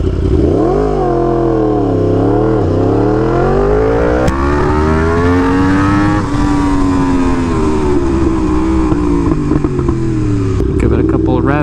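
Yamaha R1M sport motorcycle engine revving up and down in strong, continuous pulls, loud and close, with the pitch rising and falling repeatedly on its stock exhaust.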